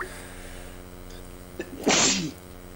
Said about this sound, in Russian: Не подумайте, что чихать это единственное, что я умею.